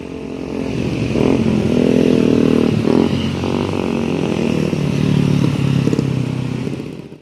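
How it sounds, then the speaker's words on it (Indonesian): A front-engine Hino intercity bus on the Bukittinggi–Palembang route passes a roadside junction at Simpang Jambi. Its loud, steady engine roar swells and holds near the listener for several seconds before easing off. "Ini Hino mesin depan ya."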